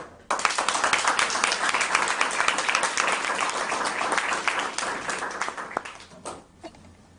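Loud, sustained applause from an audience welcoming a speaker named Megan, dense steady clapping for about six seconds that then thins out and fades away, with no talking over it.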